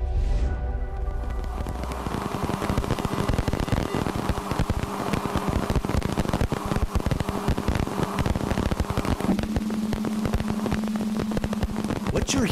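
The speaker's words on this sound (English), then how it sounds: "What you're hearing now is the sound of dust impacts on Uranus's rings." Recorded dust impacts on Uranus's rings form a dense, hissing crackle of rapid static-like clicks, steady and loud throughout, with a low tone at the start and a faint hum later.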